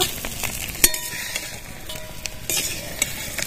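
Eggplant slices frying in oil, a steady close sizzle with light stirring scrapes and occasional soft clinks throughout.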